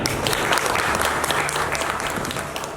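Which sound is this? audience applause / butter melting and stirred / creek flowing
audience applause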